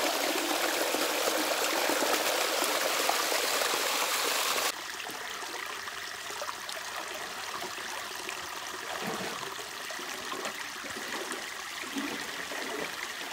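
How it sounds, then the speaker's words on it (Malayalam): A small waterfall stream flows at Shawka dam in Ras Al Khaimah, UAE, giving a steady close rush of water that drops to a softer, more distant trickle partway through, with no voices. "അടിപൊളി, ചെറിയൊരു വാട്ടർഫാളാ ഇവിടെ ഇങ്ങനെ കിടക്കുമ്പോൾ."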